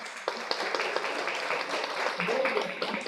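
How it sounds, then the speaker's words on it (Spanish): Audience applause at a university lecture event, a sustained wash of clapping from a seated crowd with voices murmuring underneath throughout. "reiteremos ese aplauso"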